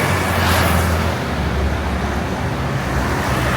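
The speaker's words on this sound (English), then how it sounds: "Yo, the chicken bus" A steady roar of roadway traffic in Guatemala, with a chicken bus among the vehicles. Engine rumble and tire noise hold constant and fairly loud throughout, with no voices.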